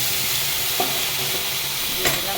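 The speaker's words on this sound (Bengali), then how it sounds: "গরম জলটা করেই রেখেছিলাম ঢেলে দেবো" Hot water meets rice frying in oil in a pan, giving a dense, steady sizzle and hiss, with a couple of brief clinks and no talking.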